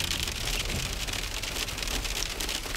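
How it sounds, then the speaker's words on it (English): Large hailstones fall in a hailstorm, a dense, even drumming and pattering on a hard surface that continues unbroken and fairly loud throughout. "Whoa, look at the hailstorm"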